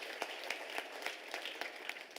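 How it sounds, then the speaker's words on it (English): Applause at a university graduation ceremony, a faint, distant round of clapping from the audience, with irregular claps spread through a short stretch and no talk. "So I would like you to give Professor Makwe a round of applause"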